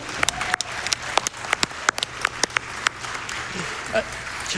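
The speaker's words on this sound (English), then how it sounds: "Give yourselves a round of applause." Scattered claps and a light, patchy round of applause from an audience at a live Summer Games Done Quick speedrun event, with sharp individual hand claps standing out over crowd murmur and background talk.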